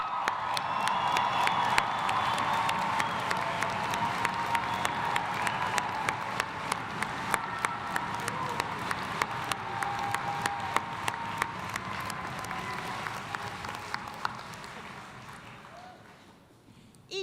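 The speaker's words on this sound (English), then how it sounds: "Will everyone join me one more time in applauding these graduates?" A large crowd at a college commencement in an arena applauds the graduates in a long, sustained ovation with some cheering. Near the end, a regular thumping pulse sits over the clapping before it fades.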